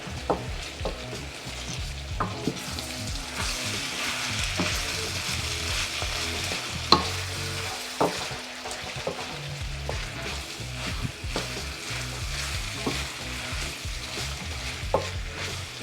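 Chicken thigh sautéed in a pan until brown, a constant loud sizzle with frequent clattering scrapes and clicks from stirring throughout, close up and with no talking.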